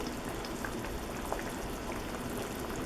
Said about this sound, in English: Got a good boil going now